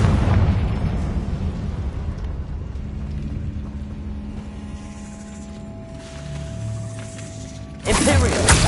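A Confringo fire spell blasts in the Hogwarts Legacy video game, opening with a loud burst, trailing into a long fading rumble, then a second sharp blast near the end.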